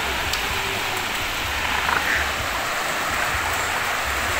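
A mountain river streams steadily past, its broadband rush of water constant and close, with no voices over it.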